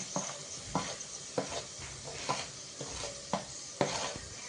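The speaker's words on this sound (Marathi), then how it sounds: "तर जरा आपल्याला मसाले परतायचेच आहेत" Malvani masala, onion-garlic masala and pulao masala powders sautéed in a pan for masale bhat: a soft sizzle under rhythmic spatula scrapes, about two strokes a second, close but fairly quiet.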